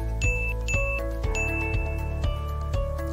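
A run of bright notification chimes, about eight clear ringing tones in quick succession with sharp attacks and short decays, loud and close with no talking.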